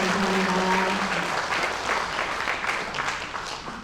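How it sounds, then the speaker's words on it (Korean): An audience at an invited lecture event in Korea breaks into steady, loud applause that continues evenly throughout, with a few brief tonal sounds early on. "박수 한번 부탁드립니다"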